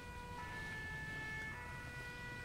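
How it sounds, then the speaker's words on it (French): Fire engine siren in the video game GTA 5, a steady wailing tone that holds through the whole stretch over a constant rumble of traffic and engine noise. "il y a les pompiers qui arrivent"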